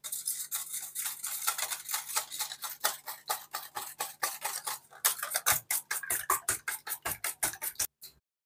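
Eggs seasoned with cumin and black pepper powder are beaten briskly in a bowl, a fast, steady run of sharp clinking strokes that carries on for several seconds before stopping abruptly.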